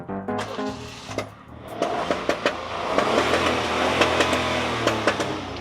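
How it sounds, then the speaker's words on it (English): A Suzuki Celerio car engine revs in loud, rising bursts over a steady idle, with sharp blips throughout; its sound is likened to a Lamborghini. "you know my Celerio makes the exact sound like a Lamborghini"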